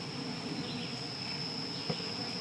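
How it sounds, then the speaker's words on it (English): Honeybees at a beehive, a steady close hum of many buzzing wings with a faint high whine throughout and a single small knock near the end. "And look at all those wonderful bees."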